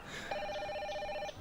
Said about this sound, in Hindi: दोपहर का वक्त था, फोन की घंटी बजी।